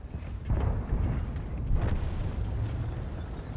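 A tank's main gun fires a high-explosive shell in World of Tanks, one loud booming blast with a rumbling tail, then a second heavy report follows about a second later.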